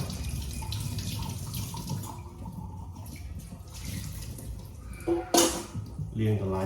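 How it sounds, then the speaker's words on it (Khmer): Water splashes and runs as a wax gourd is washed, a soft, close trickling and sloshing with a few sharper splashes near the end, while a person talks over it. "តឡាចរបស់យើងគឺយើងត្រូវការលាងតឡាច"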